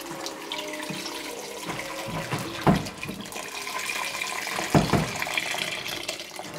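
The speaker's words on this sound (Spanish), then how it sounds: "le echamos agua caliente hasta cubrirlo" Hot water poured from a vessel into a pot of chopped green plantains until they are covered, a continuous splashing, filling pour with a couple of louder gushes, close by and alone.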